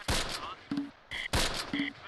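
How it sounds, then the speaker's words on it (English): Gunfire in the WWII tactics video game Close Combat, Normandy hedgerow fighting: a few distinct close shots and short bursts separated by brief gaps, with sharp cracks and ringing tails. "We got fire coming in from the northwest as well."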